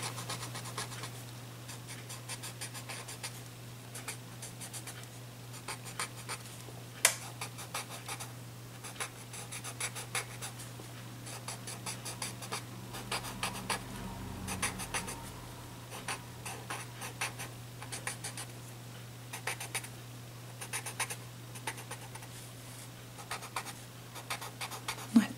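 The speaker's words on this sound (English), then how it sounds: "I'm going to use my Tortillion to force it into the paper" A tortillion blending pencil rubs and scratches across paper in steady strokes, a dry scraping texture with small irregular clicks and pauses, close and quiet over a faint background hum.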